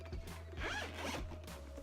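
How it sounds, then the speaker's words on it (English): A zipper on a DJI Spark waterproof case is pulled open in two quick, close rasping strokes, with faint background hum. "Let's unzip this bad boy."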